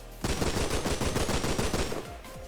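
An AK rifle in the video game Rust fires a rapid full-auto burst of about 11 rounds, loud and close, the shots blurring into a dense rattle lasting roughly two seconds before a short tail.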